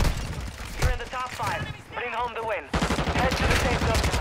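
Rapid bursts of gunfire in an online shooter game, dense automatic rattles and sharp shots in quick succession, close and loud, with players talking between volleys.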